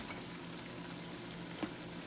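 Tomatoes go into a pan of Mexican rice mixture that is already frying. A soft, steady sizzle hisses quietly throughout, with one faint click near the end.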